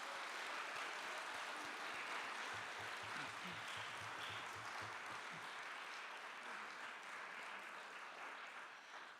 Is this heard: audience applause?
yes